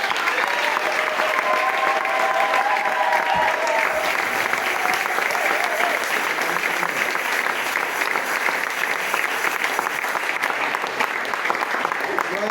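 A church congregation at a chaplaincy service applauds to acclaim the Lord, a dense, loud, continuous clapping from a large crowd lasting throughout.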